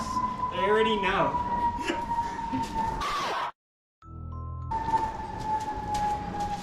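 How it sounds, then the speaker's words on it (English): Emergency siren with a steady wailing tone heard under conversation, briefly cutting out before resuming, moderately close outside. "That's the ambulance coming to get us."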